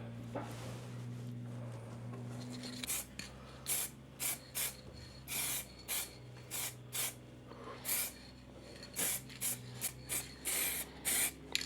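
Repeated short bursts of aerosol spray hiss onto a motorcycle fork leg in a garage, about a dozen evenly spaced puffs over a low steady hum, fairly close.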